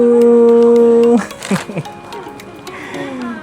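Labrador at Chatuchak Market in Bangkok, a long steady whine or howl that breaks off into short yips and whimpers, close and loud, with a voice talking over it.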